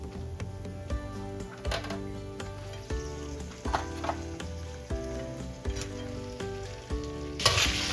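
Crabs fry in garlic butter in a pan with a continuous close sizzle, punctuated by regular scraping and clicking as they are stirred and turned, with a louder burst near the end.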